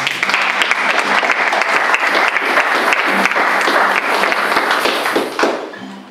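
Congregation at a church service applauding, dense sustained clapping from many hands for about five seconds before tapering off.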